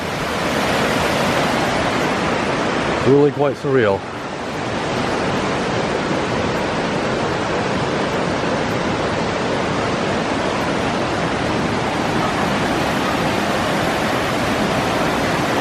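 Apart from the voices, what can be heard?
raging water at Clifton Gorge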